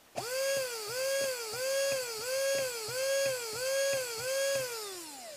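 A high-pitched electric motor whines loudly in repeated pulses as its trigger is pressed fully, rising and dipping in pitch about six times, then winding down at the end.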